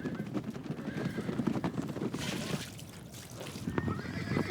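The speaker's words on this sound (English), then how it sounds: "Every evening, the mares rush in from the desert for their traditional meal." Several mares gallop in from the desert, thundering with hoof clatter and scattered whinnies, a busy, continuous rush of movement with faint voices mixed in.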